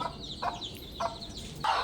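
A hen on a poultry farm with her ten four-day-old chicks gives three short, soft clucks spaced evenly apart over faint high chick peeping.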